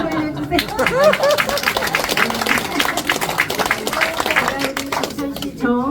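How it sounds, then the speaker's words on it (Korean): An audience at a New Year greeting event for a Bucheon party district committee claps steadily for about six seconds. Cheering and lively voices ring over the clapping, and a crowd murmurs underneath. "박수 한번 올려주세요."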